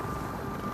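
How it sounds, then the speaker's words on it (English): A helicopter in the virtual reality zombie game Arizona Sunshine 2 gives a steady, dense rotor and engine rumble that fills the short stretch evenly, with no voices over it. "Helicopter."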